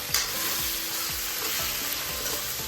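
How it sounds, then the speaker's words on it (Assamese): Meat and banana flower frying together in a pan, a steady close sizzle broken by repeated rhythmic stirring scrapes. "মাংসখিনি আৰু কলডিলখিনি ধুনীয়াকৈ ভাজ খাইছে"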